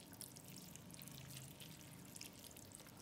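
Water is poured into a baking tray holding rice, beans and onions, making a faint, steady trickling and dripping sound with no other noise.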